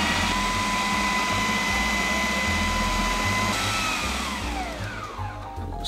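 Blender whirring through cauliflower puree with cream, a loud continuous motor drone with pulsing low hum that winds down toward the end, no voices.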